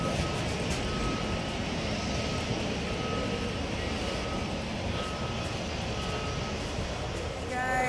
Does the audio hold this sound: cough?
no